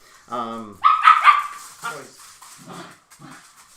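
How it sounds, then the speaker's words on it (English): Excited dogs just back from a walk bark, yip and whimper close by in a burst of loud bow-wows that fade to softer whines, mixed with a person talking. "my dogs just came back from a walk, and they're a little rambunctious"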